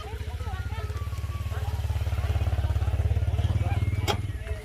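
A motorcycle engine putters steadily at low speed, its rhythmic throb rising slightly as it rolls along on a ride near a mountain campsite, with faint voices and clatter in the background.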